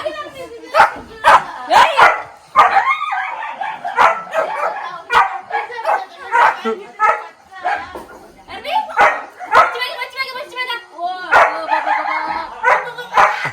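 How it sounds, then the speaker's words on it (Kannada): Several dogs at a village home bark loudly and excitedly as people arrive, with sharp repeated woofs, yips and a few whimpers, while people talk over the commotion. "ನಾಯಿಗಳೆಲ್ಲ ಬೊಗ್ಳುತ್ತಾ ಬಿದ್ದೈತೆ"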